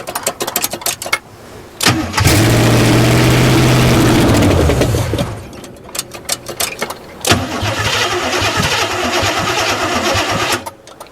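An abandoned 1967 GMC truck, hot-wired after a loose connection was fixed, cranks and catches into a loud rough idle, dies, then cranks and fires again into a rumbling run, close up.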